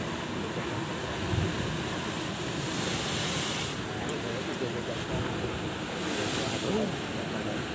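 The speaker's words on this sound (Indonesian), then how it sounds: "Ombak ketinggian 2-3 meter itu" Sea waves two to three meters high surge and roll in steady broadband roar with gusting wind across the microphone, continuous and loud, during bad weather at the shore where a drowned fisherman's body is being recovered.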